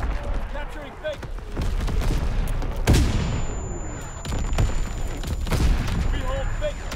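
Primary battery artillery firing in a video game, with heavy booms and blasts breaking through dense continuous battle noise, one especially loud burst partway through, while game voices talk over the action.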